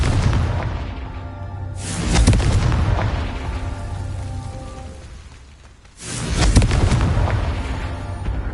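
Two loud booming explosions from the Confringo spell in the Hogwarts Legacy video game, each a sharp blast followed by a long rumbling decay.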